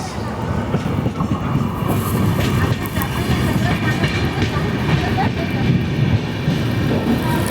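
The Vidarbha Express (12106) runs on the railway toward Thane with a continuous, loud rolling rumble and rattling clatter that holds steady throughout, no voices.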